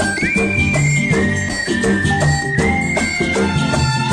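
A bright whistled melody from a 90s Bollywood film song glides and sustains over a full, busy instrumental backing of rhythmic percussion and strings, steady and loud throughout.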